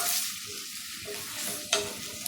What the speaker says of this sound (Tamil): ஆனியனோடு சேர்த்து நான் வந்து லெமன் கிராஸும் பண்டான இலையும் போட்டுக்கிறேன். நம்ம இல்லை போட்டு நல்லா மிக்ஸ் பண்ணிடுவோம்.